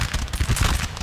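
Rapid bursts of gunfire crackle continuously, dense and loud, like automatic weapons firing in quick succession, in a multiplayer battle in the video game Napoleonic Total War 3.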